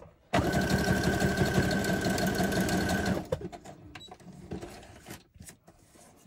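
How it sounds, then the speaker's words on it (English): A sewing machine stitches a craft embellishment in one steady rapid burst of about three seconds, loud and close, then stops and is followed by scattered handling clicks and rustles. "so I'm just going to do a bit of stitching on this one."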